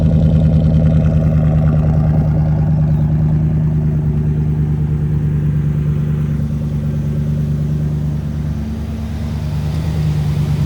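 A Ford SUV with an aftermarket exhaust idles steadily up close, a deep, even rumble throughout with no ticking and no talk.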